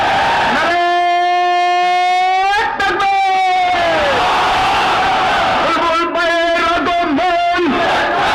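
At a flood-relief gathering, a lead voice calls out a long, drawn-out slogan for the party leaders, and after a pause a crowd answers with loud, ringing shouts nearby.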